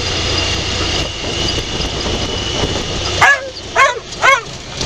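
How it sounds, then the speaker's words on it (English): A dog gives three loud, close barks in quick succession on a hiking trail on the Sands Basin–Bridge Creek loop, after a stretch of steady engine-like drone and wind. "No barking"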